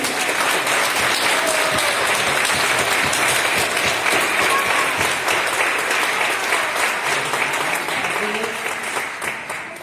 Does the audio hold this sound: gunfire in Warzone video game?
no